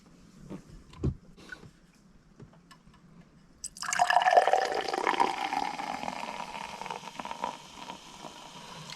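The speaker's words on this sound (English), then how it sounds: "So let's crack it open and give it a pour." After a couple of soft clicks, soda pours into a glass with a fizzing, gurgling rush that gradually settles into a crackling hiss.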